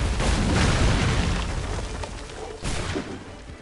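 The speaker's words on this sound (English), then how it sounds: "Destroy powder kegs." Powder kegs explode in Assassin's Creed as loud, rumbling blasts with dense crackling debris. A second burst comes later, and there is no talk.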